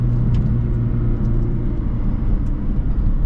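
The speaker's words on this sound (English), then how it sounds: "Turbo sounds so good." Steady low engine rumble and turbo hum from a Mazdaspeed 6 being driven on snowy streets, loud and continuous from inside the car with no talking.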